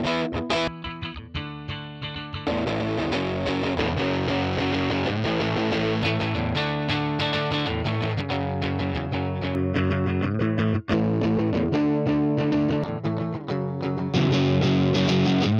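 Heavily distorted electric guitar tone from an amp simulator plugin, playing chords and riffs continuously, thick and loud, with no voices.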